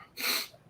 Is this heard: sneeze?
yes